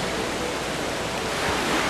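Rushing river water in Zelda: Twilight Princess surges loudly and steadily while swimming along a fast, raised current, a dense broadband roar with no pauses.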